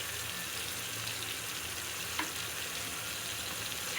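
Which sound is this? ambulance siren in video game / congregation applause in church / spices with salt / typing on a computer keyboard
spices with salt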